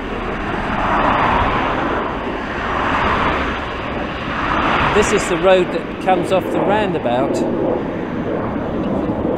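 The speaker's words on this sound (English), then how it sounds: "It's typical as an airplane shooting overhead at the same time" Airplane passing overhead near a roadside footpath by a roundabout, a broad rushing drone that swells and fades in waves while someone speaks over it outdoors with some wind noise.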